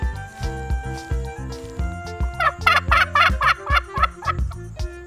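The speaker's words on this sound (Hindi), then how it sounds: "बच्चों, ये देखो टर्की।" A turkey gobbling loudly and close, a rapid rippling burst of calls over a steady rhythmic background of low musical pulses.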